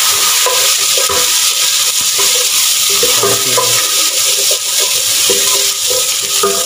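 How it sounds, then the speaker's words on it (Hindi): Ginger garlic paste sautés in a hot pan, a loud continuous sizzle with scraping and stirring from a spoon throughout. "जिंजर और गार्लिक की पेस्ट हमारी बची हुई थी हमने डाली, इसको सौते करेंगे"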